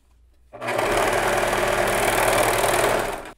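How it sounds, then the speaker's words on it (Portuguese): Sewing machine running steadily as it overcast-stitches the edge of tactel fabric, starting abruptly after a brief quiet moment and whirring loudly and continuously until it stops. "vou fazer um chuleado só em uma banda aqui, para fazer uma bainha bem fininha"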